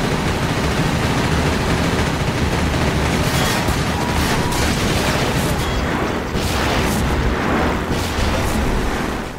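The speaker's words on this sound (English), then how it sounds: "Oh, rockets." Repeated rocket explosions in Half-Life 2, a series of heavy booms and bursts with rumbling tails, loud and close, landing in quick succession over several seconds.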